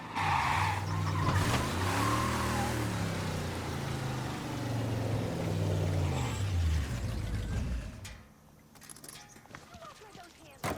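Car engine revving and tires skidding in the 1930s crime video game Mafia, a loud continuous motor hum with shifting pitch and squealing slides, ending abruptly in quieter ambience near the end.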